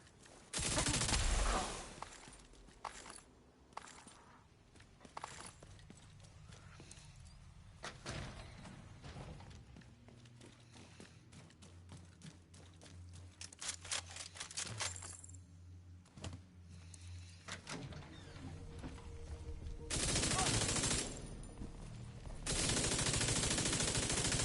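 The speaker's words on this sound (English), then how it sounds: "Everybody stop shooting at me" Rapid bursts of automatic gunfire from The Division 2 shooter game, loud volleys alternating with quieter gaps and sharp single shots, with little or no talk over them.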